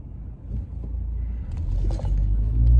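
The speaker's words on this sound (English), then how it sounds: "what is this car doing?" A car goes by nearby, a low engine rumble that swells and grows louder toward the end as it approaches.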